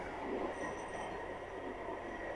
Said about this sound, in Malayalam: കൃത്യം സമയത്ത് തന്നെ ട്രെയിൻ സ്റ്റേഷനിലേക്ക് എത്തി